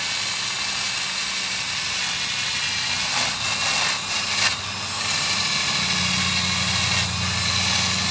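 An electric drill cleaning up metal on a Genesis Coupe engine runs continuously with a steady motorized whine and hum, holding a constant pitch with slight fluctuations in load.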